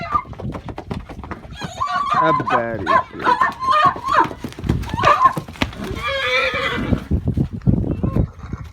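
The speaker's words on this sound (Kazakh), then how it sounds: "Айғырым қояр емес, айғырлық жаман емес сияқты." A stallion whinnies repeatedly at close range, its neighs mixed with farmyard animal noise, with people talking over and between the calls.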